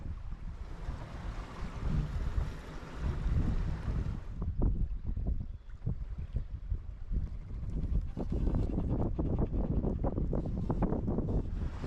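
A sailboat under sail moves through open water with a constant rush of wind across the microphone and waves washing against the hull, loud and continuous with no voices.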